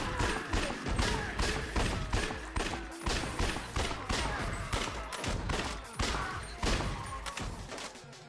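Rapid bursts of gunfire from the video game Judgment, many sharp shots in quick clusters with thuds between them, steady and fairly faint, with no talking.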